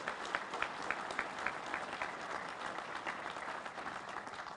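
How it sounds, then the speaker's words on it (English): A rally crowd of union mine workers claps steadily, a broad wash of applause with a few sharper individual claps standing out, continuous and fairly even throughout. "Please give them a round of applause as well."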